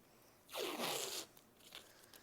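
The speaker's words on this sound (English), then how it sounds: "Now, we can use masking tape again." Masking tape is pulled off the roll in one quick, close ripping stretch lasting under a second, followed by faint handling noises in a quiet room.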